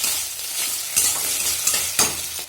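Ginger, garlic and onion paste hits hot oil with a close, bright sizzle under cumin tempering, a continuous hiss punctuated by a few sharp spatter bursts and light stirring scrapes, with no talking.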